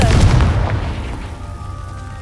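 A Confringo fire spell goes off with a deep, loud blast in Hogwarts Legacy, a booming burst up front that fades into a rumbling tail with faint ambient tones.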